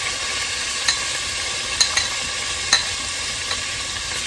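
Garlic and scallions fry in a pan for creamy shrimp fettuccine, giving a steady broad sizzle with a few soft clicks of stirring scattered through, close and alone.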